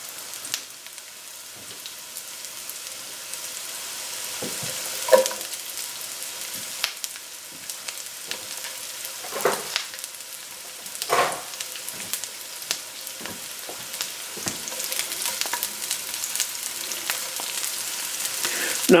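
One small onion frying in a pan for a Jamaican shrimp and lobster curry: a soft, continuous sizzle and crackle, close and fairly quiet, with occasional scrapes and clicks from stirring.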